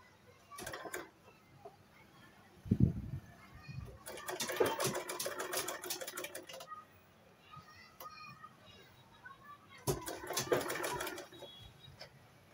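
A sewing machine stitching the shoulder and sleeve seam of a shirt dress runs in two long bursts of rapid mechanical whirring, with short quiet pauses and soft handling noises between them.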